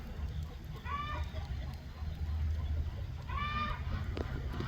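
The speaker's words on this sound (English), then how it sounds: "Is that a chicken alarm? Or is she laying an egg?" Outdoor hens on a homestead give two short, clear clucking calls a few seconds apart, moderately distant over steady low background noise and rumble.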